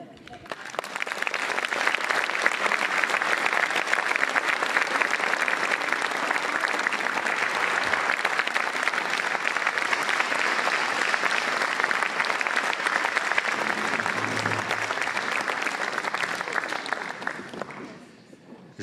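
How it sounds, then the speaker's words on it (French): A theater audience gives sustained applause for a comedy troupe, loud dense clapping that swells in, holds for many seconds, then fades out. "Je vous demande vraiment d'applaudir la troupe Profiterole"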